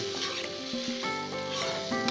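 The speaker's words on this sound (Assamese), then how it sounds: "এতিয়া কুকাৰটো খুলি বইল কৰি থোৱা দালিখিনি ঢালিছোঁ" Boiled lentils poured from a pressure cooker into a hot pan, giving a soft, steady sizzle with faint stirring and clinks, close by and quiet.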